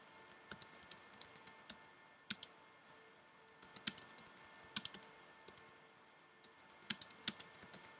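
Username and password typed on a computer keyboard, with quiet, irregular key clicks in short bursts and pauses against a faint steady background hum.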